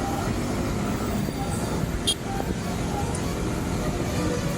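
Night-time traffic jam on the road from Chennai to Villupuram, heard from a motorcycle: a dense, continuous rumble of idling and creeping engines, with a brief higher hiss or horn-like burst midway.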